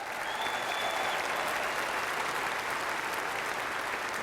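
A crowd applauds steadily, a dense even wash of clapping that continues throughout without breaks.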